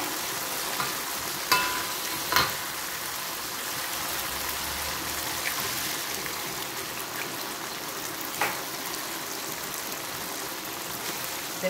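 Egg frying in a wok for mee goreng, a soft continuous sizzle like light rain, broken by a few sharp clinks of a utensil against the pan.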